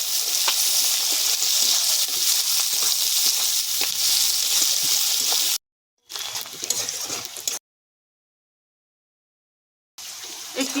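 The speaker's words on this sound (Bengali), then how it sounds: "গরম মশলা আর তেজপাতা দেব। তারপর দেব পেঁয়াজ কুচি। ভালো করে ভেজে নেবো একটু।" Chopped onion fries in hot oil with garam masala and bay leaf, giving a steady, bright sizzle close to the pan. It cuts out twice into silence, and the second break is longer before the sizzle returns.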